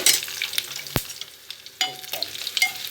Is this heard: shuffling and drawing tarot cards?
no